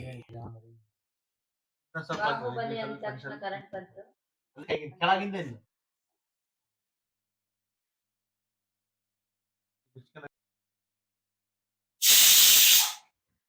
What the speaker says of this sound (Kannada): ಸ್ನೇಹಿತರೆ ನೋಡಿ ಎರಡು ವಿಜಲ್ ಆಗಿದೆ ಕೆಳಗಿಳಿಸಿದ್ವಿ ಕುಕ್ಕರ್